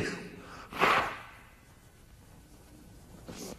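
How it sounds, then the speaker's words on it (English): A single short, forceful nose blow near the start, close and sharp, followed by quiet breathing and a faint second puff at the end. "I wish I knew a way to blow my nose without getting it recorded"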